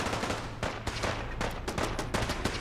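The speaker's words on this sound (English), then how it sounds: "I hear turrets" Rapid bursts of automatic turret gunfire from Fallout 4 clatter on and off at a steady pace, dense and continuous, a loud, close barrage of mechanical shots with no talking.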